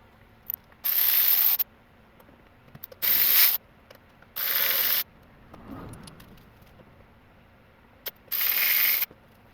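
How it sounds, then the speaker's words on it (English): Ratchet loosening T30 Torx screws on the ignition coils of a Mercedes M113 engine, four loud, close bursts of rapid clicking ratchet spins separated by pauses and softer handling noises. "So these coils are going to be held in with a T30 Torx bit."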